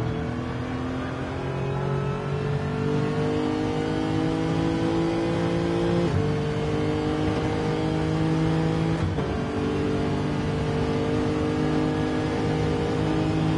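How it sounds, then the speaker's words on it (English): A big 5-litre V8 Lexus race car in a racing video game at Monza, its engine note climbing steadily through the gears with two brief shift dips, a constant loud drone with no talk. "The Lexus being more powerful. Big 5-litre V8."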